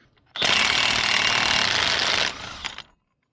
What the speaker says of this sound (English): So now we can remove the axle nut. To do so, you're going to need a 36mm socket. And I recommend a high-powered impact driver.